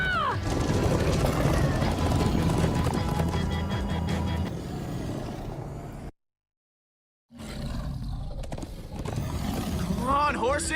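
In the Minecraft: Story Mode video game, horses gallop with rapid clip-clop hooves and loud whinnying neighs over music and effects, a voice shouts over them, and the sound cuts to silence briefly before resuming.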